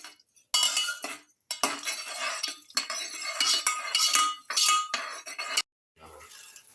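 A spoon stirs a soaked rice and swordfish mixture in a metal pot, with close scraping clinks in bursts separated by short pauses.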